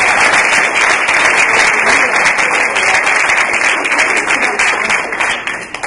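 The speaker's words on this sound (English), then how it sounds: "Please give a round of applause." An audience at a candidate forum hosted with a public library breaks into loud, steady applause, a dense sustained clatter of many hands that carries on for several seconds before easing slightly.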